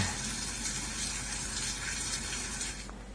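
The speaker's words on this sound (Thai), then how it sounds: "อันนี้น่าจะเสียงฝนตกอ่า" A recorded rain sound plays from the Wuzhi Audio app on an Android phone, a soft, steady wash of hissing water noise that continues evenly for about three seconds.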